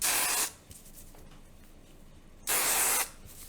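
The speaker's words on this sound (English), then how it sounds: "you basically spray the root lifter in any area that you want an extra boost" Root lifter sprayed from a can onto hair roots: two bursts of loud, close aerosol hiss, each about half a second, separated by quiet rubbing and handling noises.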